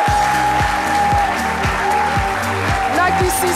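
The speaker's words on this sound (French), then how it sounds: "Je vais vous demander de vous lever pour applaudir très fort Madame Nakissi" An audience applauds Madame Nakissi Savané, a festival figure welcoming her on stage, with continuous loud clapping blended with a pulsing musical beat and a prominent sustained tone.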